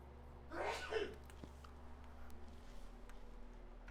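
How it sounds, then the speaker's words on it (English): One person sneezes once, a sharp burst near the start in a kitchen where a tenderloin roast is being prepared, followed by quiet room hum and faint background noise. "He's been sneezing like crazy."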